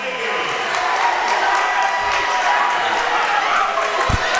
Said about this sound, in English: The crowd is getting loud here in Cave Arena.